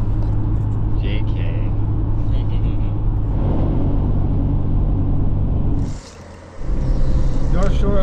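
A truck rolls along a highway on the North Shore of Lake Superior, giving a steady low road rumble and engine drone that briefly dips near the end before returning.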